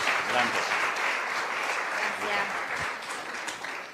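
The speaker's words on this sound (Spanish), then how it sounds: "La recibimos también con un aplauso" Church congregation giving a warm round of applause to welcome someone speaker, a full, continuous wash of clapping held at steady loudness, fairly near.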